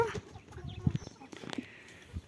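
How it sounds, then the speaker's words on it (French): Hens in their enclosure giving brief soft clucks amid rustling and a clack of movement, close and quiet over a short moment. "J'ai des poules, elles sont aussi cinglées que leur maîtresse."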